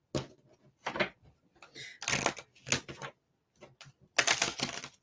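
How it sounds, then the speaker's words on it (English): A dog scrabbles after a piece of rawhide indoors, its claws scratching and skittering in uneven bursts, some short and some longer, with quiet gaps between them. "That scrabbling that you hear in the background, it happens to be my dog chasing a piece of rawhide"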